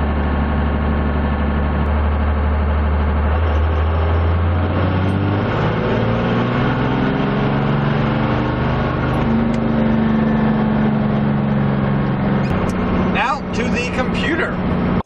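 A turbocharged car engine running on a dyno during a 1500 RPM pull, a steady loud drone rising in pitch as the load builds, with a person talking over it.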